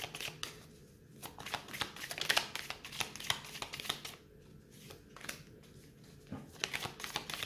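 Tarot cards are shuffled by hand in quick riffling bursts with sharp papery flicks and slaps, close up and irregular, with short pauses between runs.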